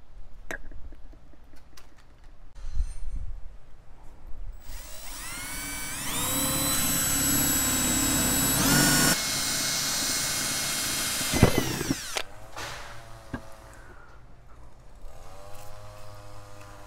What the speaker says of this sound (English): We'll drill a hole in that.